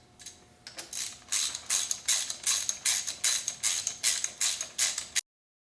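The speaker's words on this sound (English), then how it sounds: "The next step is to actually tighten down the cam girdle and the bolts." Hand ratchet tightening cam girdle bolts on an engine during a cam swap: about a dozen steady, evenly spaced clicking bursts, close and fairly loud, with no talking.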